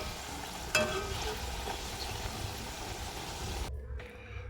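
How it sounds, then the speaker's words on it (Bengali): Masala puri made with chana dal frying in hot oil, a steady crackling sizzle filling the clip with one sharp knock near the start, then quieting abruptly near the end. "এই রকম করে চার পাঁচটা ব্যাচ করে আমি ভেজে নেব"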